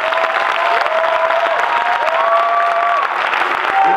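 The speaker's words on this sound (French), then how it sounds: "j'aimerais qu'on applaudisse plus fort que ça." Sustained audience applause, dense and steady clapping throughout, with a faint high tone running underneath.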